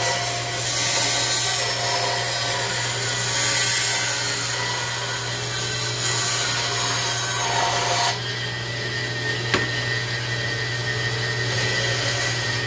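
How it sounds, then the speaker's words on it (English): A Rikon bandsaw cuts wooden snowman shapes, its motor holding a steady hum beneath a continuous rasping bite of the blade through wood, with a brief lull and a sharp tick near the end; no one speaks. "I call this the Cadillac of bandsaws"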